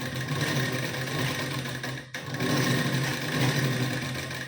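A sewing machine runs in a steady, continuous whir while stitching a folded half-inch blouse piping strip, pausing briefly midway before resuming at an even pace, close and alone.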